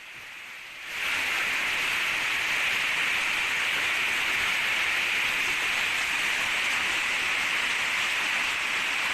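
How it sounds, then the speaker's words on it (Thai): Heavy rain mixed with hail pours down on a village in Pai, Mae Hong Son, Thailand, rising after a second into a steady, dense, loud roaring hiss that continues unbroken, with no voices. "ได้ยินเสียงไหมฮะที่ตกลงมามีทั้งฝนมีทั้งลูกเห็บ"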